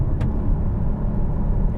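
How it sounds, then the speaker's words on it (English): Porsche 981 engine growling through an aggressive downshift before a corner on a country road, a steady loud low rumble throughout with no talk. "aggressive down change around this corner"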